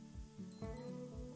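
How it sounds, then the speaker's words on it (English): A quick run of thin, high-pitched electronic beeps from a Casio G-Shock G-5600 watch alarm sounds up close, several pulses in a row, then stops, leaving a faint low hum. "it will give beeping sound like this"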